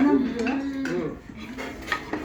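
Plates and cutlery clatter close by in a quick run of ringing clinks and scrapes, with a few sharper knocks near the end.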